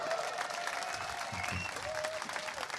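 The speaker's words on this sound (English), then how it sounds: "you have a whole bunch of people here just cheering" A large audience at a Tesla event cheers and applauds, with dense, steady clapping and shouting that fills the whole stretch at moderate loudness.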